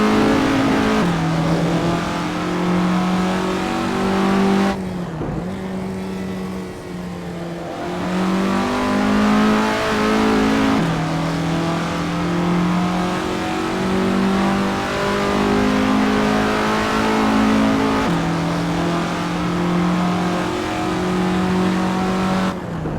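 A classic Formula Ford single-seater engine in the racing game Assetto Corsa, at Donington, revs loudly and steadily, climbing in pitch through repeated gear changes with brief dips between pulls, close and continuous with no talk.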